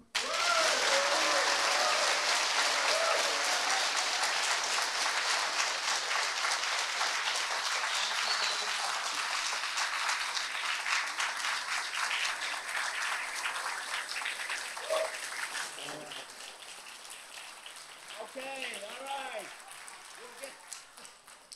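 An audience at a community hearing on high school admissions breaks into loud sustained applause that slowly fades, with someone speaking briefly as it dies down.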